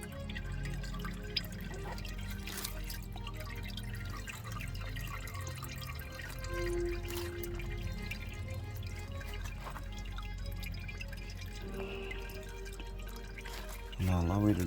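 Transmission fluid contaminated with coolant draining and dripping from a car underneath, a faint steady trickle with occasional drips and light clatter in the background.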